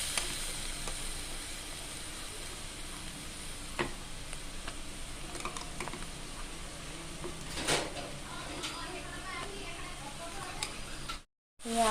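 Ginger garlic paste goes into a pan with browned onions and fries with a steady, close sizzle, with occasional clinks and stirring taps over the hiss.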